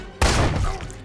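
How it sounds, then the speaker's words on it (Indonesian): Gunfire in an action film: a sudden loud burst of shots with a booming thud, decaying over about a second amid a dense cinematic soundtrack. "dalam insiden tersebut temannya Robin harus terkena tembakan"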